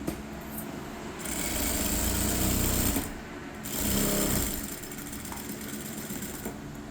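A sewing machine stitches a cotton lining for a blouse, running in steady bursts that speed up and slow down, with brief pauses between runs.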